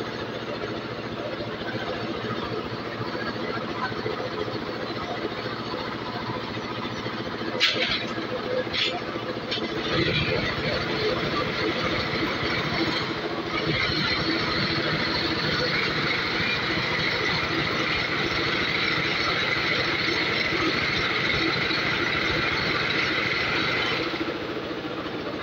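A concrete block (batako) press machine is being trial-run by two new workers at a block-making factory. It gives a continuous loud mechanical rumble with a few sharp clanks near the middle, and a voice talks over it for much of the clip.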